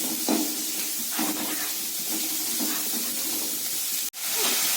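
Onions sauté in a little oil for kara chutney, giving a steady close sizzling hiss with soft stirring scrapes and a brief sharp click near the end.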